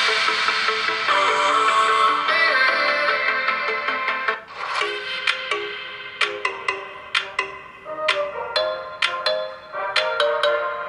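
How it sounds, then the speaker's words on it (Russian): A ringtone plays through the speaker of a Realme X Lite phone, starting as a sustained melodic tone and moving into a rhythmic pattern of plucked, bell-like notes, clear and fairly loud with no talking. "Включаем рингтон."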